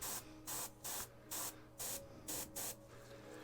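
Short bursts of gray spray paint hiss onto a miniature, about seven quick puffs in an irregular rhythm, each a soft, close, airy hiss with brief gaps between.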